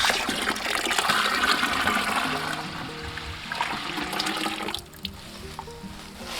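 Maple sap from freshly tapped trees pours into a bucket outdoors in a continuous splashing, gurgling stream that runs for several seconds before thinning toward the end.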